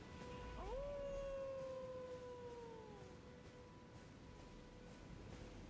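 Elden Ring wolf howl: a single drawn-out cry that swoops upward, holds a long level tone for a couple of seconds, then sinks away, followed by quiet game ambience.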